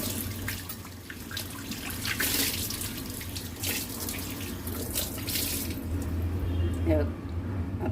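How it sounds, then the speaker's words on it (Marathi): Tap water splashes and runs continuously over a new cast iron appe pan in a sink, with faint clatter and a voice now and then. "पाण्याने आपल्याला धुवून घ्यायचं"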